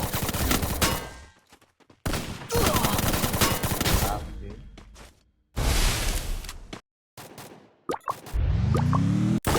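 Gunfire in the mobile shooter Free Fire, long loud bursts of rapid automatic shots separated by sudden silent gaps, ending with a rising mechanical whine.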